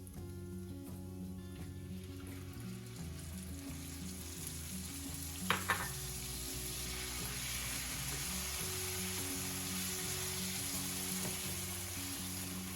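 Garlic and onions sauté in a pan with a soft, continuous sizzle and a low background hum, interrupted once by a brief clatter of a utensil, heard close but fairly quiet throughout.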